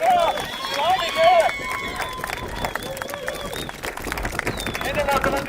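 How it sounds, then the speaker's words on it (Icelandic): A crowd claps steadily for a winner at a street mile race award ceremony. The dense, continuous applause sounds from a moderate distance, while an amplified announcer speaks over it. "Gefið henni gott klapp. Til hamingju."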